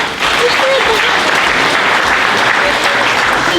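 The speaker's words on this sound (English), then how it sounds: "hold your applause as I finish the list, if you don't mind." Audience applause at an honorees' recognition event, a loud, dense and sustained burst of clapping from a large crowd that continues unbroken from start to finish.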